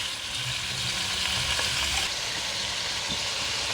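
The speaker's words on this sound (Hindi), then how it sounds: "इसको हमने गोल्डन होने तक फ्राई करना है। ये हमारी फ्राई हो रही है" Chicken pieces fry in oil for karahi, a continuous loud crackling sizzle with a few faint low knocks underneath.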